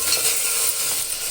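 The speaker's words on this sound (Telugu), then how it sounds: "ఇప్పుడు అల్లం వెల్లుల్లి పేస్ట్ వేసుకుంటున్నానండి. కొద్దిగా ఇది కూడా బాగా వేగాలండి." Ginger-garlic paste frying and being stirred in a pan for coconut rice, a steady close sizzle with faint scraping, no voices.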